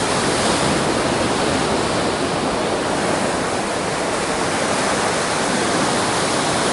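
Ocean surf at a rocky shore where people are fishing, a steady loud broadband wash of breaking water and spray filling the whole stretch with no pauses or voices.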